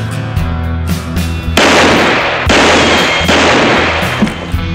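Gunfire sets off an explosive canister placed on a store floor during a street shootout in a 1965 western, heard as loud broadband blasts and bursts with rumbling tails, layered over a musical score with no talk.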